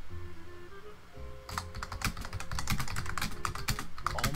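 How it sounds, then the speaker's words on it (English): Rapid computer keyboard typing starts after a quiet stretch of about a second and a half and runs as a dense, steady stream of clicks over faint background game sounds, with no talking. "He's typing."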